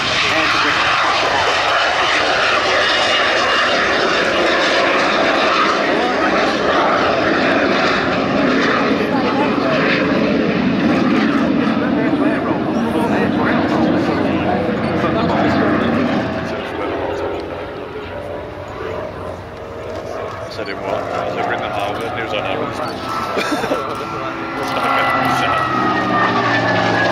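A P-47 Thunderbolt fighter at the 2023 Duxford Battle of Britain air show gives a loud, sustained propeller-engine roar that swells and then eases as it passes, with voices in the background.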